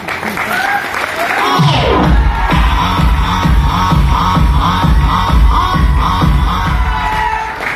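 Loud applause from a seminar audience at a direct-selling training event, rising quickly and continuing steadily throughout, with cheers and crowd noise mixed in over a strong low-frequency boom, probably music or PA.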